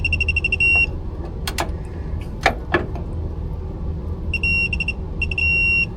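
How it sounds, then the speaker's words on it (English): Short bursts of rapid high electronic beeps from an electronic torque wrench at the start and end, with a few clanks and knocks of metal tools in between, while reinstalling a hydroboost and master cylinder. "That beeping sound."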